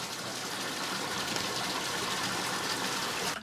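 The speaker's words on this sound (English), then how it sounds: "goes to a bath to remove the fine coating of rice flour left by the milling." Rice washing in a factory water bath to rinse off rice flour left from milling, a steady loud gush and rush of water running unbroken before cutting off at the end.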